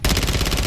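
Rapid automatic fire from an ISO 9mm submachine gun in a video game, a tight stream of shots in steady fast rhythm, loud and close, with no talk.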